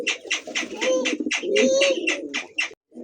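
A caged pair of racing pigeons coos close by in repeated soft throaty phrases, several overlapping coo calls rising and falling with brief pauses, no talking.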